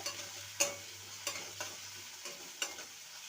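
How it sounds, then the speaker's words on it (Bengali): Tomato being sautéed into a drumstick curry in a pan, a steady sizzle broken by several sharp scraping strokes of a spatula, close and fairly quiet, with no voices. "টমেটোকে কেটে নিয়েছি সেটা দিয়ে দেবো ভালো করে কষিয়ে নেব"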